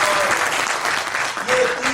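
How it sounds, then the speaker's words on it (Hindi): A studio audience claps loudly for the winning team at a quiz show, a continuous dense burst of applause with a faint voice briefly beneath it. "तो चलिए इनकी एक बार जोरदार ताली बजाते हैं।"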